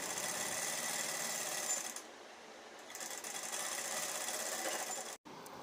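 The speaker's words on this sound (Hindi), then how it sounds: "दोनों फैब्रिक को अच्छे से मिला करके और सिलाई लगा के सिक्योर कर लेती हूँ" A sewing machine hums steadily as it stitches two fabric pieces together for a baby suit, easing briefly in the middle and cutting out for a moment near the end.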